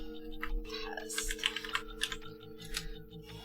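Rapid clattering keystrokes on a computer keyboard, close and fairly quiet, in an uneven burst of typing with no talk.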